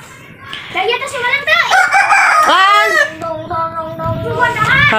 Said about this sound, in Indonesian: Suara ayam bengek.